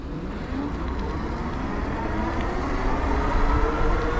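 A 2025 Wired Freedom e-bike pulls away on throttle alone at pedal-assist level 5, a dense rushing roar of motor whine, tire and wind noise building steadily in loudness as it gathers speed.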